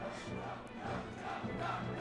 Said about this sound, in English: The duck chant once more.